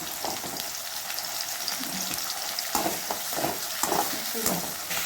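Tomato and onion sauté in a pan for a chicken dry fry, giving a continuous close sizzle with irregular stirring scrapes and clatters over it, no voices.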